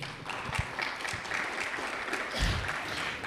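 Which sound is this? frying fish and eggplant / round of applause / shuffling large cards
round of applause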